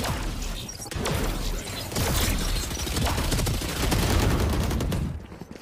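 Rapid bursts of gunfire from the video game Valorant fill the clip, loud and dense, with sharp repeated shots running almost continuously and overlapping impact and whoosh effects, ending abruptly.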